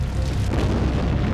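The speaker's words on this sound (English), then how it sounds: "There is only an instant between the initial crash and the horrible explosion that envelops the villa" A huge explosion engulfs a villa in Orleans moments after a crash, heard as a loud, dense, rumbling boom that fills the whole moment with no voices.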